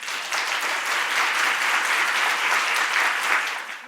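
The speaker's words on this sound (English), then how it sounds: "One more round of applause for Kathy and all of our speakers today." Sustained audience applause after speakers at a talk on resilience, a steady wash of many hands clapping at moderate loudness, swelling slightly near the end before tapering off.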